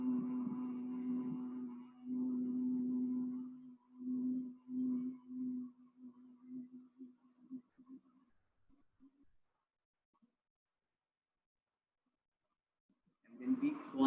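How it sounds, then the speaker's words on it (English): Several people hum together on a long exhaled breath during a group breathing exercise, a low steady drone in pulses that fade out over the next few seconds, followed by renewed voices at the end. "we'll do that humming sound"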